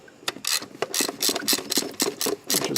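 A ratchet clicks in rapid, uneven bursts while loosening 10mm bolts on a 7.3 diesel engine during a water pump job, heard up close with no talking.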